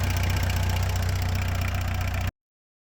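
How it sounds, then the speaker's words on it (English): A VW Golf MK2 engine idles at operating temperature while its electric cooling fan runs, making a steady, close, continuous drone with a low rumble that cuts off abruptly near the end. "we can see that the cooling fan is actually doing its work"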